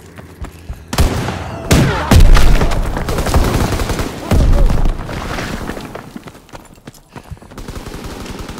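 Gunfire and explosions crackle through a World War II video game battle, with bursts of shots and heavy booms rising and falling over several seconds, loud and busy with a dense rumble underneath.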